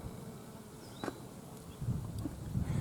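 A bee buzzes faintly around pink rock rose flowers (Cistus), a thin hum amid quiet outdoor background that grows a little busier toward the end.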